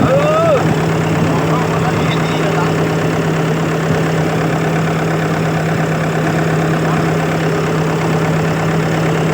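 A newly assembled engine running steadily at a loud, close idle with a constant low drone and slight knock, held without obvious revving.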